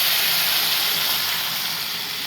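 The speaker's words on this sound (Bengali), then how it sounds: "এবারে জল দিয়ে দিচ্ছি।" Water poured into a hot, scorched frying pan gives a loud, steady hissing sizzle with steam that fades slightly over a couple of seconds.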